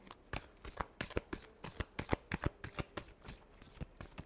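Tarot cards shuffled by hand during a love reading, a quick run of crisp, riffling slaps and flutters repeating in steady bursts, close and clear with no talking.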